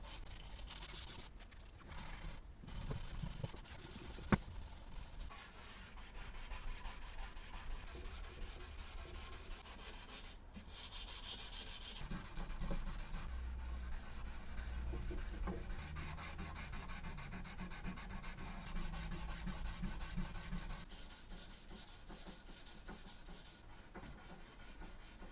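Steady, continuous rasp of sandpaper rubbed back and forth by hand over a longsword blade, close and fairly quiet, going on without pause or talk.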